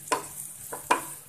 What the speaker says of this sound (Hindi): अब मैं इसमें डाल दूंगी ये पिसी हुई दाल। इस दाल को हम 5 से 7 मिनट के लिए भून लेंगे।